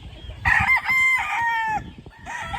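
A Kelso gamefowl rooster, offspring of a Ruby White Kelso, lets out a close, loud crow with a cluck or two trailing after in a quiet yard.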